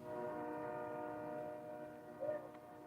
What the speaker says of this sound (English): I have literally never heard that train go off so much.